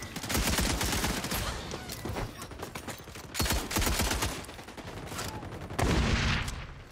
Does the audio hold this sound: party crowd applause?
no